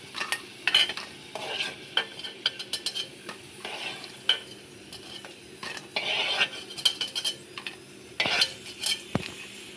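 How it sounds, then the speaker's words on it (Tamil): Ring papads frying in hot oil crackle and sizzle softly up close, broken by frequent sharp clinks and scrapes of a metal utensil against the pan. "இப்போ எல்லா அப்பளத்தையும் பொரிச்சுக்கலாம்"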